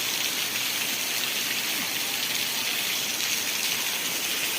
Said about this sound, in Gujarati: બોટાદ જિલ્લાના રાણપુર તાલુકાના વેજલકા ગામે અતિ ભારે 21 તારીખનો આજ વરસાદ તમે જોઈ શકો છો